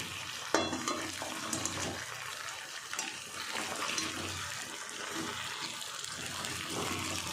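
Fried chicken pieces are stirred and mixed in a small wok, with soft sizzling and scraping, clattering stirs coming in irregular bursts over a low kitchen background, moderately quiet.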